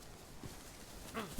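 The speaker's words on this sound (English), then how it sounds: "Fucking dogs!" Dogs attacking in the StalkerZ game, a short burst of barking and snarling yelps, moderately close over steady background noise.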